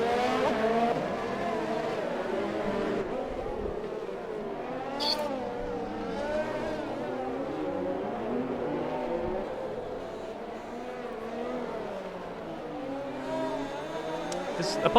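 Race car engines in a PC racing game at Monte Carlo, Monaco, drone continuously with engine notes that sweep up and down through the corners. The sound stays at a moderate, steady level throughout.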